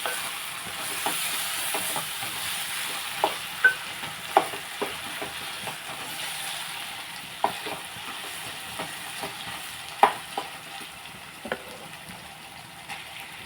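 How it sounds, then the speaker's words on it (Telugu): Tomato pieces are stirred into a frying potato and tomato curry, a soft steady sizzle broken by repeated sharp taps and scrapes of a spoon against the pan, close and fairly quiet. "ఇప్పుడు మనం టమాటా ముక్కలు కూడా వేసేసుకుని"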